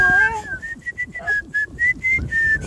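A person whistling a run of short, clear, high notes close by, a few rising and falling phrases with brief gaps, while a husky dog joins in with low vocal howls underneath.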